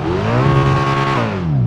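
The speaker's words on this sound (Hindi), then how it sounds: "इसका जो एग्जॉस्ट है, अब सुन करके देखो" A car's exhaust in GTA V roars close and loud as the engine revs, a steady rising drone that swells then drops in pitch near the end, with no talk over it.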